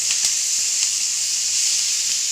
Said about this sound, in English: Then the onions goes in. So when we're cooking the onions